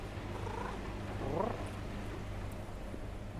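A soft, steady cat purr in the video game Cash Cleaner Simulator rumbles low and close, continuous with no voices.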